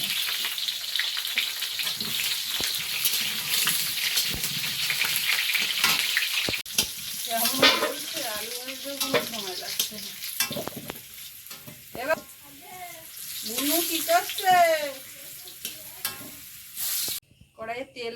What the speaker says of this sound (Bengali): কড়াইতে তেল দিয়ে দিলাম দিয়ে এইবারে আলু একটু ভালো তো আলুটা এবারে একটু ভেজে নিতে হবে